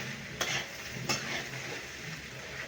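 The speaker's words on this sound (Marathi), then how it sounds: "आता छान मस्त आपण परतून घेऊया पोह्यांना" Poha (flattened rice) being stirred and sautéed with onion in a pan for a spicy Maharashtrian kanda poha, steady sizzling with two sharp scraping strokes of the spoon early on, close and moderately loud with no talking.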